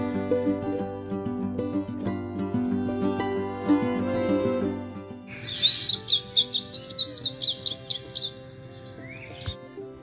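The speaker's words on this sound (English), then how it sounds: "we heard the indigo bunting" An indigo bunting sings a rapid series of high paired chirps, heard after a stretch of a different sound with steady tones and strokes.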